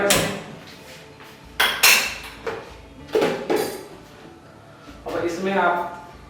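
A metal kadhai is picked up and set down, giving several sharp clanks and knocks against a kitchen surface, spread through the clip with short quiet gaps between them.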